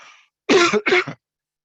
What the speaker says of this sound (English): I'm sorry, I'm coughing now.